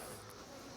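Bees buzzing close around a beehive being inspected, a continuous faint hum with no speech over the brief moment.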